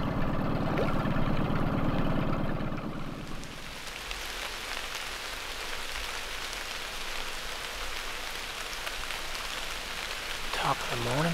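Steady rain falling in the Kentucky woods on a dreary November morning, a dense, even patter on leaves and ground, preceded by a low rumbling hum during the first few seconds.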